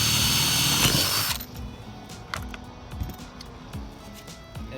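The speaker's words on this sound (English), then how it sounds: "You just need to drill one hole in the bottom." A power drill bores a hole in the bottom of a plant pot, with a loud, close whine for just over a second before stopping. Quiet clicks and handling knocks follow.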